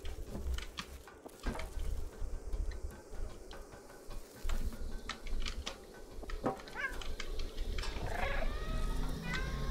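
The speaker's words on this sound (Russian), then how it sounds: "О чем мы мяукаем?" A cat meows several times in the video game Stray, close and clear, with ticking and footstep-like clicks around it and a voice talking briefly.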